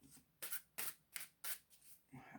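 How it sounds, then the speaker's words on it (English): A regular deck of playing cards being shuffled close up, with several short crisp riffling bursts separated by brief pauses and no talking. "I'll go with the regular deck of cards."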